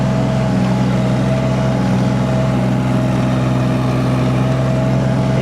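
A diesel mini excavator engine, bought at auction, runs loud and close at raised throttle. Its constant droning hum holds a steady pitch throughout with no talking.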